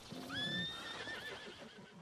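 A horse in Red Dead Redemption 2 gives a clear, rising whinny that holds for about a second, close and fairly loud, then trails off into quieter snorts and hoof shuffles.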